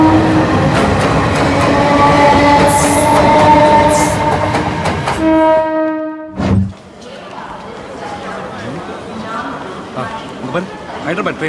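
A train stands at platform six of a railway station, with a steady rumble of carriages and tonal horn or brake notes that cut off into a quieter station hubbub and distant clatter.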